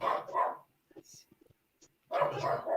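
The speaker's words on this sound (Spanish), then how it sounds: "estaba ladrando mi perro de fondo" A dog barks in the background of a religious broadcast call, a few faint scattered yips and barks in a lull between people talking.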